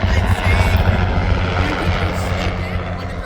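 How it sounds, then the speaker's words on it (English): A helicopter passes overhead above Venice Beach, its steady rotor and engine drone moderately loud and continuous, with people talking nearby underneath it. "Here comes that helicopter again. There's a helicopter."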